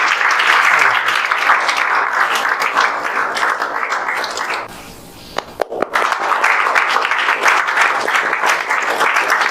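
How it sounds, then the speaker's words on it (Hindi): A crowd claps steadily to welcome students who earned places at top NITs and IIITs after JEE Main 2024 results. The applause is dense and continuous, dips to near quiet at the midpoint with a few isolated claps, then swells back to full strength. "ताली बजाते रहिए"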